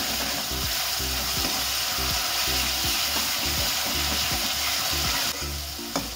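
Raw ground masala paste fries hard in hot oil, a loud dense sizzle with a rhythmic scrape of the spatula repeating about twice a second, close and uninterrupted by talk.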